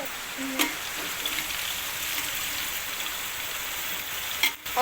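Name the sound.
onions frying in oil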